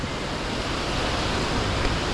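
Broadband rushing water of a creek near Creek Street and a city park in Ketchikan, Alaska, a steady close roar with no pauses or speech.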